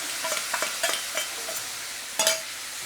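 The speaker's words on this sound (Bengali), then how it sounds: "এবার গুঁড়ো মশলাটা দিয়ে একটুখানি কষিয়ে নেব" Ground spices and chopped tomato sauté in a hot pan with a steady sizzle, broken by several sharp scraping stirs of a spatula at irregular intervals, close and fairly loud, with no voices.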